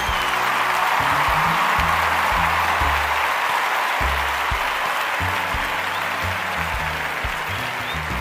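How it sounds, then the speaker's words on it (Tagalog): Wedding guests clap loudly for the arriving newlyweds, a sustained dense round of applause with music playing underneath throughout. "palakpak muna kayo dyan ng sobrang lakas"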